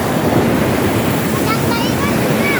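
Large, muddy waves surge and roar nonstop during a signal number 2 typhoon in Palawan, with strong wind buffeting the microphone. A voice speaks faintly under the noise.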